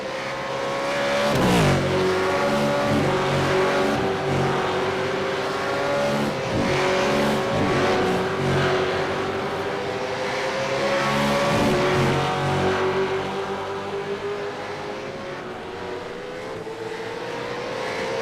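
Race cars in a multi-class race at Oran Park roar past, one loud engine note sweeping and shifting up over a dense background of other cars, continuous and close, without commentary.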